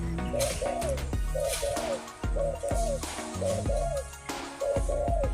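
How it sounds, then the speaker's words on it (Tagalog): A dove coos over and over in a steady repeating rhythm, close and clear, with no voices. "Yung ibon no, hindi titigil."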